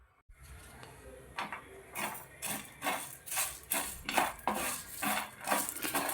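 Masala dry-roasts on low heat in a pan while a spoon scrapes it in a steady rhythm, roughly two strokes a second, close and clear with no sizzle or voices.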